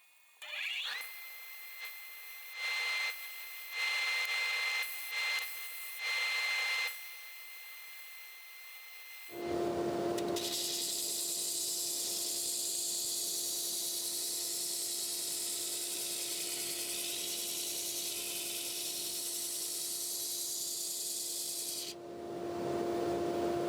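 A new 60 grit sanding disc spinning at about 500 RPM grinds against wood in a long, steady abrasive rasp, preceded by several short bursts of a motor starting and stopping, then cutting off near the end.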